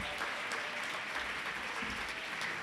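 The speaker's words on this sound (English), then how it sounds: "we'd like to give you a special round of applause" Board members get a round of applause from an audience, a continuous dense wash of many hands clapping at a steady level throughout, heard from within the crowd.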